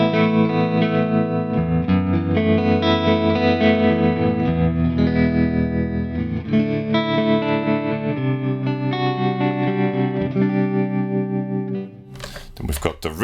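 Electric guitar through the clean channel of a Joyo Jam Buddy II amp, recorded straight into the computer. Steady strummed chords ring out with a shimmering chorus-like tone, then stop near the end with a few brief scratchy noises.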